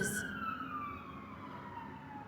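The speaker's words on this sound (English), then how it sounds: "Siren." A wailing emergency siren sweeps downward in pitch, steady and fairly loud, with a brief burst of noise at the start and a low street rumble underneath.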